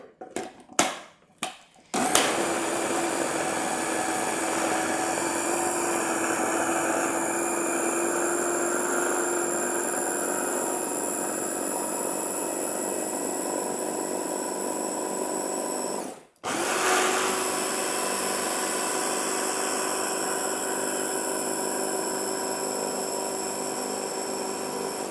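A food processor purées boiled pumpkin after a few quick pulses, then runs with a loud, steady motor whine, stops briefly, and restarts to keep whizzing, close and without talk.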